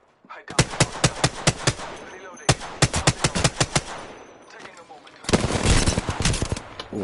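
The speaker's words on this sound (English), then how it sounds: "Shots fired, man. They're hitting me. I am taking fire." Video game gunfire comes in two rapid bursts of crisp, evenly spaced shots, followed by a longer rough stretch of sustained fire, all loud and close.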